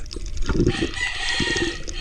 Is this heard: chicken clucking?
yes